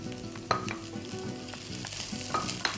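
Chopped garlic, ginger and spring onion frying in oil for chilli chicken, a continuous close sizzle with a few sharp clinks of a utensil against the pan, no voices.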